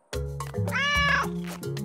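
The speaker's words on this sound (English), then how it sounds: "Nice kitty cat." A cat meows once, a drawn-out, loud, close call that rises and then trails off.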